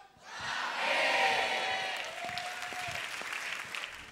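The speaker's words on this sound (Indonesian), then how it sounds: "Tepuk tangan untuk..." Audience at a stand-up comedy show bursts into loud applause and cheering for the comedian, whoops swelling near the start then settling into steady clapping that carries on alone.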